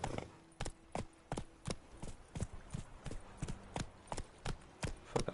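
Roach, a horse in The Witcher 3, clip-clops in a steady run of about a dozen crisp hoofbeats, close and fairly loud, with no talking over it.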